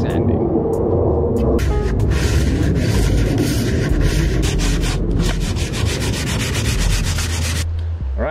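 A wood panel for a round toilet seat being sanded, a loud close rhythmic rasping scrub with repeated strokes over several seconds, with some background noise.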